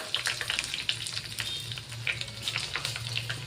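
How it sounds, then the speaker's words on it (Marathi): Curry leaves and cumin tempering in hot oil for khandvi, a close steady sizzle with crackling pops and spits over a low hum, no voices. "आता मी तडका मारणार आहे. तडक्यामध्ये गोड निंब सोडलेला आहे आणि जिरं"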